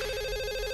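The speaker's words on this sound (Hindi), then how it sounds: "आपके घंटी बज गई सर।" A telephone rings with a steady, continuous electronic tone that repeats in a fast pulsing warble, loud and close, with no talking over it.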